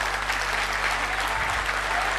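Sustained, dense applause from a large audience at a school annual day celebration fills the whole stretch at a steady, even level, with no voices rising above it.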